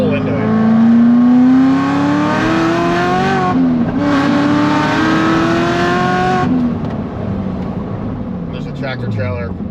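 A Chevrolet Corvette C7 Z06 with a valved exhaust accelerates hard in second gear from a rolling start, the engine's pitch climbing loud and close, briefly dipping, rising again, then backing off.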